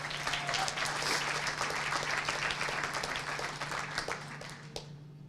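A crowd at a Clemson Athletics graduation brunch gives a round of applause, steady dense clapping that carries on for several seconds before thinning out at the end.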